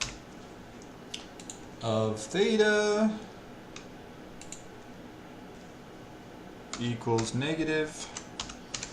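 Soft, rapid keyboard typing clicks in irregular bursts, faint and close, with someone talking intermittently over them.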